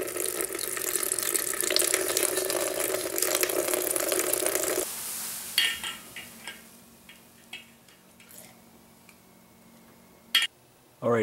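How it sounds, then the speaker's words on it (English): Homebrew blonde ale wort pouring into a carboy, a steady splashing stream for about five seconds, then stopping, followed by scattered clinks and small knocks. "Time to put the wort into the carboy."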